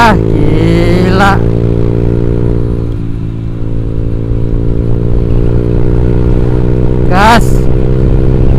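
Honda Vario 150 scooter fitted with a Black Devil aftermarket exhaust, idling loud and close with a sharp rev near the start and another near the end, while a voice talks over it.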